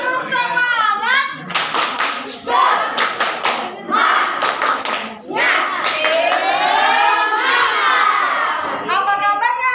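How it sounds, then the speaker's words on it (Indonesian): A group of children in a Sunday-school style session performing the rhythmic 'tepuk semangat' clap chant, bursts of loud clapping alternating with shouted and sung lines, lively and fairly close. "kakak mau semuanya tepuk semangat"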